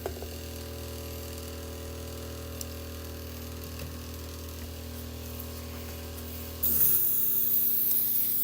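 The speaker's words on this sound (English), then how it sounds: "And then we'll start cleaning out that airbrush." Airbrush being cleaned with airbrush cleaner, a steady hissing spray with a low motor hum underneath that continues unbroken, then turns louder and brighter near the end.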